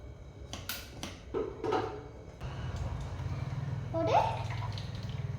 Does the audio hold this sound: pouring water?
yes